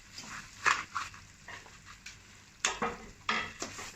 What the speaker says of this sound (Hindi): इस तरह चम्मच चलाते हुए इसको आपने पकाना है